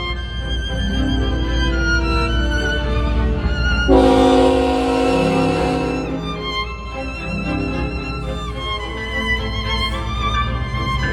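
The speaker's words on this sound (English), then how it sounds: "The second to last train was an Autorack train with a Solo leading ET44AC" An autorack freight train led by an ET44AC locomotive rumbles past nearby, its loud horn blaring in one sustained blast midway through over the steady roll of the cars.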